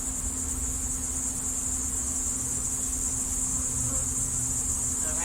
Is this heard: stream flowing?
no